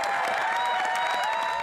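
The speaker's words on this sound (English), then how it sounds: "This week's return of the House of Commons started with applause for the Prime Minister" Members of Canada's House of Commons applaud the Prime Minister, a steady, dense clapping that carries on evenly and fills the chamber without pause.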